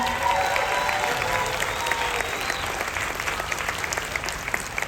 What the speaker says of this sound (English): give a round of applause to all the people who work here